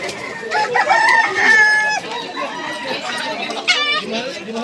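Fighting cocks crowing and clucking at a bird and chicken market, several loud nearby crows overlapping with clucks, while people talk beneath.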